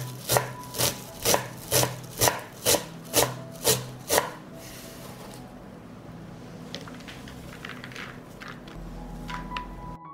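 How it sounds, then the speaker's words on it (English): A knife chops parsley on a board in about eight crisp, evenly spaced strikes, then stops, leaving a quiet room with faint stray clicks. "And finally, I will cut the parsley."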